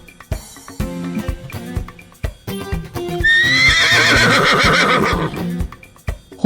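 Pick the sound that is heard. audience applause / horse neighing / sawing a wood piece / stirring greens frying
horse neighing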